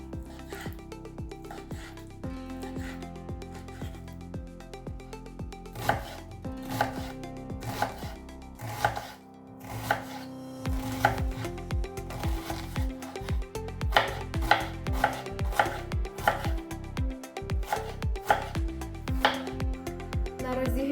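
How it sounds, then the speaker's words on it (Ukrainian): A knife chops chicken fillet into cubes on a cutting board, sharp close knocks in an uneven rhythm, speeding into rapid bursts in the second half, with no talking. "Куряче філе нарізаємо кубиком."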